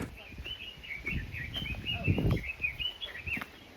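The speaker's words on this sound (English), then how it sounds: "All those bird noises, they're not coming from speakers." Birds chirp in quick repeated calls through a quiet Hawaiian forest, with faint voices talking in the background.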